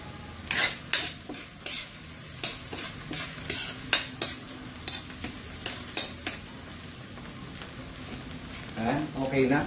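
Onions sautéing in a frying pan, a soft steady sizzle punctuated by frequent clinking stirs of a utensil against the pan, close and fairly quiet.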